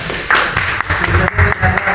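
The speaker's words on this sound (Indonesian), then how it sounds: "Tepuk tangan dulu untuk Marwan dong." Applause from an audience at a podcast event, a steady burst of clapping lasting a couple of seconds with no speech over it.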